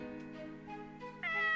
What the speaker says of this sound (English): Its head tilted slightly to the side and let out an adorable meow.